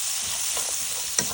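Rice seasoned with garlic powder and black pepper being stirred in a hot frying pan, a constant bright sizzle with a few soft scraping strokes and a quick clink near the end.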